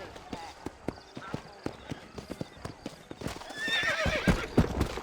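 Horse in the video game Red Dead Redemption, rapid clip-clop hoofbeats at a steady rhythm with a whinny partway through, close and clear, while people talk over it.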